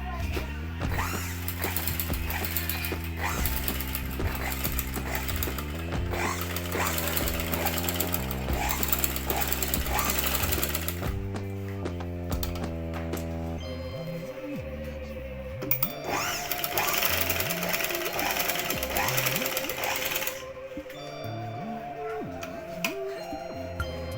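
A sewing machine stitching a blouse runs in a steady, fast mechanical whir with rhythmic needle clatter, pausing and shifting pace as the fabric is guided, loud and close throughout.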